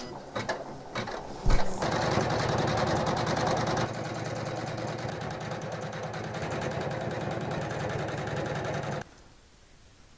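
An embroidery machine stitches a felt Easter bunny with a steady, rapid mechanical clatter that runs close and alone for several seconds, then stops abruptly.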